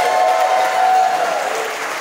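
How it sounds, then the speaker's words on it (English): Wedding guests applaud the bride at a reception, a dense, steady burst of clapping that fills the room throughout, with a faint sustained tone running beneath it. "quick round of applause for our beautiful and patient bride"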